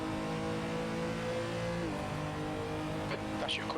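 A Renault R.S. 01 race car engine in a sim racing game at the Red Bull Ring drones loud and steady at high revs, then dips briefly as the driver shifts gear and climbs again, with a faint tire squeal near the end.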